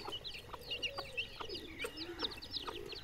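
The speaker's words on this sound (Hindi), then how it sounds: "वो मुर्गे फिर रहे हैं" Farm chickens cluck and chatter continuously at a moderate distance, with soft repeated calls overlapping throughout and no voices.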